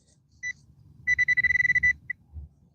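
A metal detector gives short target ID tones: two brief beeps, then a fast run of about a dozen pulsed beeps and one last blip, quiet and alone.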